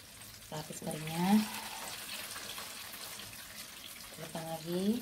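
Battered chicken coated in thick, crispy KFC-style flour is frying in hot oil, a steady sizzle running through the whole clip. A voice speaks briefly at the start and again near the end.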